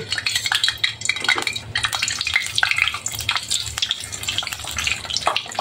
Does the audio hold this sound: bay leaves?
yes